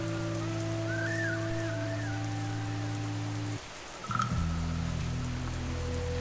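Steady rain hisses throughout beneath sustained droning musical tones that cut out briefly and then return.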